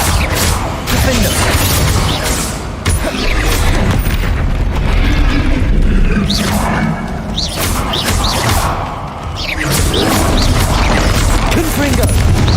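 Repeated Confringo blast spells explode in Hogwarts Legacy combat against a troll. Heavy booms and crashes follow each other almost without pause, loud and dense, over a constant roar of battle.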